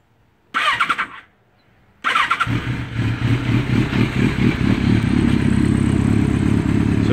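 A Kawasaki ZRX1100 with a Kerker exhaust and baffle cranks with a whirring starter, briefly stops, then catches and settles into a loud, steady rumbling idle with clattering.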